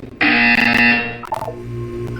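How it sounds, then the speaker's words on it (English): A loud electronic buzzer from the game Portal 2 sounds once in a steady, harsh tone for about a second, then cuts off into a brief clatter and quieter room tone. "You will hear a buzzer."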